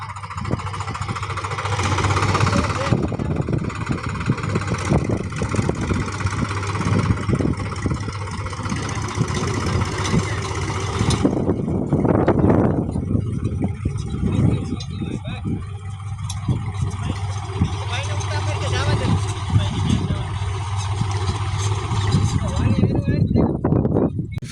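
A tractor spreading fertilizer on a farm field runs with a steady, loud engine drone for the whole stretch, shifting in tone partway through, while people talk over it.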